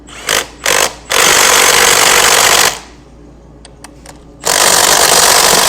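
A pneumatic impact gun rattles loudly while tightening bolts during an industrial cold knife repair, with two short bursts followed by a longer run, a pause with small clicks, then another sustained burst, close up.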